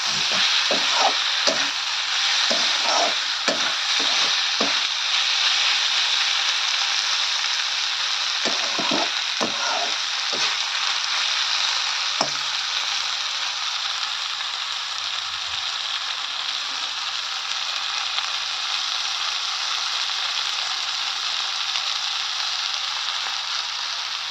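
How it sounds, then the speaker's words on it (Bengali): Onions frying in a pan with a loud, constant close-up sizzle; a cluster of scraping stir strokes comes early, a few more follow around the middle, then the hiss carries on alone with no voices. "কত সুন্দর ভাজা হয়ে গেছে পেঁয়াজ করলে কিন্তু আমার"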